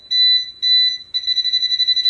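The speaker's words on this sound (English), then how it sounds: "Now you notice the beep is a little bit different." An electrical voltage tester gives two short high-pitched beeps, then a longer warbling, pulsing tone, sharp and close with near silence between.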